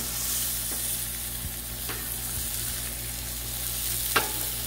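Tri tip steaks sizzle steadily on a hot griddle just after being flipped, a constant close frying hiss with a few faint clicks and taps, no talking.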